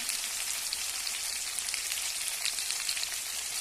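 Potato and pointed gourd pieces fry lightly in hot oil for a mrigal fish dish, making a close, steady sizzling hiss throughout with no talk.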